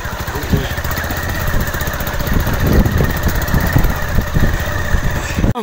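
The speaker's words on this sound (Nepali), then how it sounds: "यहाँ चाहिँ हाम्रो बाइकको हाम्रो वडा अध्यक्षज्यूको बाइकमा चढेर आएको" A bike's engine runs close by with a loud, rough, rapidly pulsing putter that stays steady for several seconds, then cuts off abruptly.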